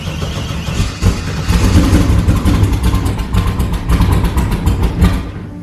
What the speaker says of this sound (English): you have to pump the gas a bunch and it doesn't like to start in the cold